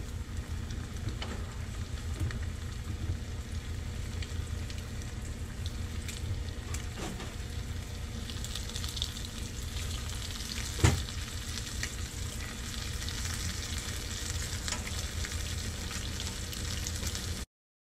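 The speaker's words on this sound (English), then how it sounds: "I like to deep fry them because you'll know the fish is done when it floats" Hybrid bass fillets deep frying in hot oil, a steady dense sizzle and bubbling throughout with a brief louder crackle near the middle, no talking.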